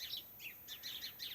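Small birds chirp in quick, high bursts at an animal rescue, around six short tweets in a row, fairly near and clear with no talking.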